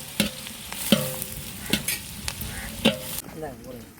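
Onions fry for biryani while a spoon stirs them, giving a series of sharp scraping strokes against the pan over a soft steady sizzle, close and clear.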